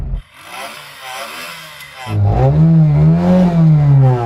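A Reliant Regal three-wheeled microcar's small engine idles, then revs hard with a buzzy, raspy tone like an old moped that rises and dips a couple of times, close by.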